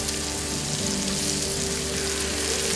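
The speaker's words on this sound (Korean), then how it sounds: "대리석 불판 위에서 지글지글 삼겹살이 익어간다" Pork belly sizzles on a marble grill plate at a marble quarry, a steady, close, dense crackling fry that runs unbroken with no voices.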